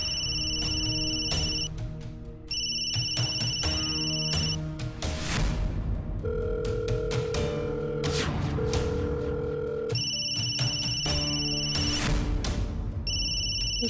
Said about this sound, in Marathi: विशाल सरांचा फोन.